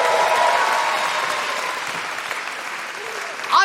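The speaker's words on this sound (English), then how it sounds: "Big round of applause" Audience applause at a live comedy show, a dense burst of clapping that starts strong and gradually thins and fades, with a brief louder rustle near the end.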